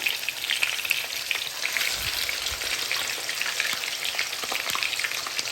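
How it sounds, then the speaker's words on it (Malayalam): Marinated pearl spot fish (karimeen) frying in a pan, giving a loud, continuous sizzle with fine crackling pops throughout and no speech. "ഇനിയിപ്പോൾ നമ്മൾ പരട്ടി വെച്ചിരിക്കുന്ന മീനിനെ ഒന്ന് ഫ്രൈ ചെയ്തെടുക്കാം"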